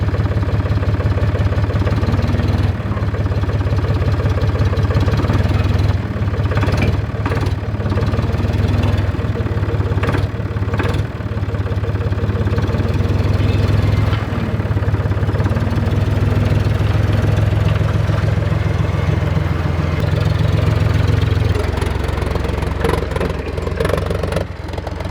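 An old forklift engine idles steadily close by with a rough, low rumble, broken by a few brief clanks and knocks as it keeps running throughout.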